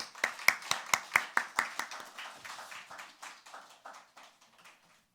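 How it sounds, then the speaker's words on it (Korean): A church congregation claps to welcome the pastor at a Sunday worship service: a steady, fairly quick run of sharp claps that tapers off over about five seconds until only a few scattered claps remain. "목사님 나오실 때 큰 박수로 환영하도록 하겠습니다"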